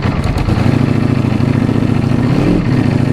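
A 2018 Ducati V4S motorcycle engine runs at a steady, close idle with a low, even rumble for the whole stretch and no voices.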